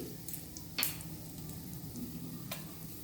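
Mustard seeds, asafoetida and dried fenugreek leaves sizzle in hot oil for a besan sev kadhi, a soft continuous crackle with a couple of sharp pops or clinks standing out.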